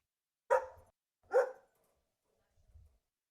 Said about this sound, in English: My dog barks loudly.